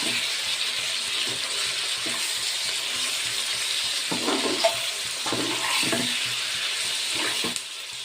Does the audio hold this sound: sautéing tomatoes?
yes